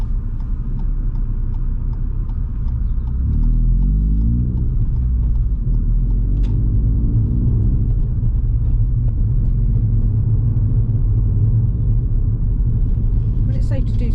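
Car interior while climbing an uphill closed junction in first gear, a loud steady low engine drone and road rumble throughout, with a faint ticking of an indicator and no speech.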